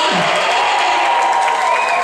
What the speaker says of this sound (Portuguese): Palmas pra elas, por favor!